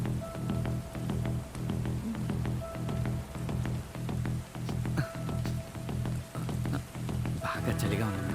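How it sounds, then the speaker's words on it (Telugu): Rain falls outside in a steady, soft, continuous patter that stays in the background beneath talking voices and a faint tonal backdrop. "లేకపోతే బయట వర్షం పడుతుంది కదా"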